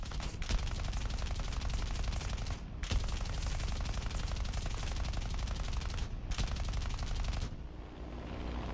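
Aircraft guns in the video game War Thunder fire in long, loud, continuous rapid bursts, with two brief pauses between bursts and a final stop before the end.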